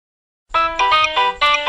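A loud electronic phone ringtone bursts in after a short silence, playing a bright chiming melody in repeated pulses.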